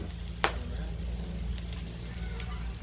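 Pork sizzling on a Thai mookata grill: a constant close, crackling fry under a low hum, with one sharp clack early on and no voices.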